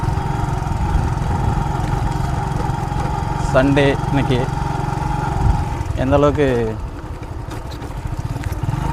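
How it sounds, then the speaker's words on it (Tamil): A motorbike engine hums steadily as it rides along a riverside forest route through a village, with a person talking over it and bursts of strong wind buffeting the microphone. "ஆற்றுக்காட்டில் பைக்கில் பயணம் பண்ணலாம்."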